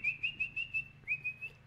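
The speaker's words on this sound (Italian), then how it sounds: "Non puoi nemmeno fischiare" A person whistles a quick series of short, high, clear notes in a bouncing rhythm, a pause, then more of the same, close and fairly quiet with no talk.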